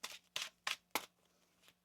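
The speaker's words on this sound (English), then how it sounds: "One more shuffle." Tarot cards riffled in four quick, crisp bursts close by, followed by a fainter fifth flutter after a short pause, with no voices.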